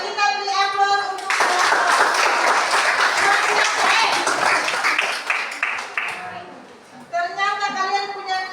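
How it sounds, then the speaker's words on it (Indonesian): Classroom applause after a student group's presentation in a physics lesson on elasticity and Hooke's law, loud sustained clapping from many hands for about six seconds, with a teacher talking before and after it. "kita beri aplaus untuk"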